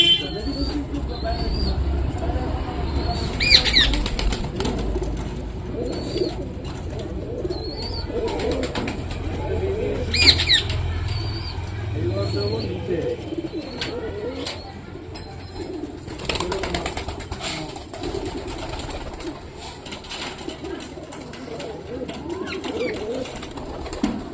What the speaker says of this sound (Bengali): আগে আমাদের খেতে দিতে হবে এই খাঁচার পায়রাগুলোকে